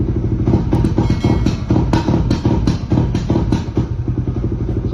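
A motorcycle fitted with an Aracer RC Mini X ECU rumbles loudly nearby, its engine note chopped by repeated sharp popping backfires and crackles over a steady throaty drone.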